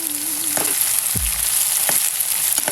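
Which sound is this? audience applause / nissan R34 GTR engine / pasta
pasta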